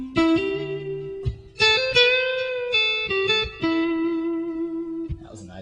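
An electric guitar with effects plays a lick of hammer-ons and bends in a varied rhythm, its sustained, pitch-sliding notes loud and close with distinct attacks and short gaps between phrases.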